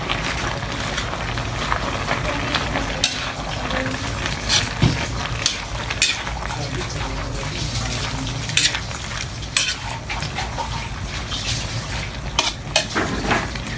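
Chicken fillet and pechay leaves are stirred in a frying pan, with a steady clatter of a utensil scraping and tapping the pan over a low background sizzle, close and continuous with sharper knocks throughout.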